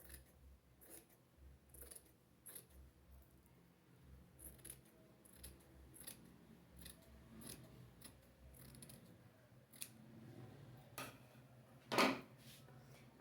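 Scissors snipping fabric while trimming the seam allowance of a sewn skirt, giving a series of faint, irregular cuts with one sharper, louder snip near the end.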